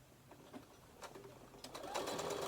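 A sewing machine stitches fabric for a zipper pouch, set close to the fabric edge, running in short bursts that grow steadier and louder toward the end, close and alone.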